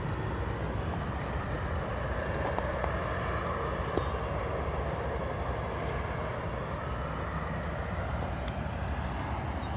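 Turkish Airlines and Royal Jordanian airliners taxiing onto runway 28 Right at O'Hare Airport, a steady distant jet-engine rumble that holds even with no sharp events.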